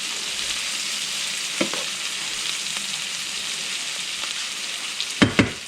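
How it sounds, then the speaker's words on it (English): Christmas breakfast food sizzles steadily in a pan, with a constant hiss broken by a few sharp scraping clatters of stirring, loudest toward the end. "So you just keep checking on it and stirring it and make sure it's not burning."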